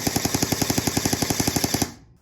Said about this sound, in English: one pull of the trigger fires, and then when you let go of the trigger, it fires too